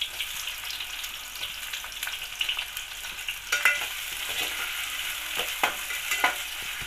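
Chopped onion and tomato fry in a pan for vegetable pulao, giving a steady, close sizzle with occasional scraping stirs and crackling pops, and no voices.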